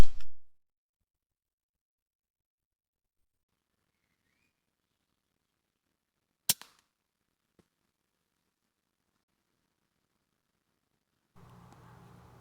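A single sharp gunshot cracks out during a squirrel hunt with an air rifle in quiet woodland, one brief loud report followed by a faint tail, with long near-silence around it.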